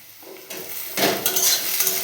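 Chopped tomatoes being stirred into fried onions in a pan for a spicy semolina tiffin dish, with a soft sizzle and utensil scraping that grows louder after the first second, alone without talk.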